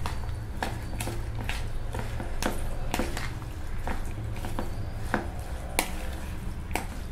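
Mayonnaise cream and tomato ketchup are stirred together in a bowl for cheesy nachos, making a steady series of soft, close, wet tapping and squishing strokes in an irregular rhythm.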